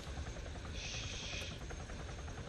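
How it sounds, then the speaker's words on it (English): A helicopter in a video game thrums with a steady rotor chop and a whining engine tone, moderately loud and continuous, with no talk over it. "Alright, load up into the chopper, Knight."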